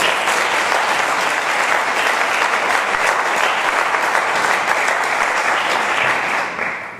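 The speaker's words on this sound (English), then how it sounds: "Let's give them another really big round of applause." Sustained audience applause for a school concert band at a music festival, dense and steady throughout at full strength, easing off slightly in the final moment.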